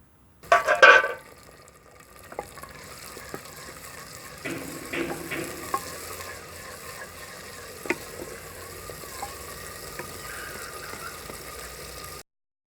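Onions, green chilies and tomatoes frying in a handi, village-style outdoor cooking: a loud initial hiss and splatter as the ingredients go in, then a steady sizzle with occasional stirring scrapes.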